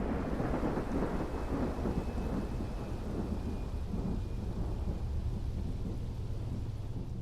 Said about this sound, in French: une énorme tempête s'abattait sur la ville